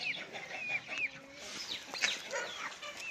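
Backyard chickens in a coop cluck and chatter in a series of short, close calls, several birds overlapping irregularly with no talk.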